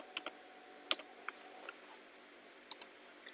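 Keyboard keys clicked during a laser-cutting design session, a few sharp separate taps in quick pairs, close and fairly quiet, with no talking.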